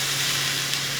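White wine hitting a hot pan for a creamy garlic prawn pasta, giving a steady, loud broadband sizzle and hiss throughout a short moment, with a low steady hum underneath.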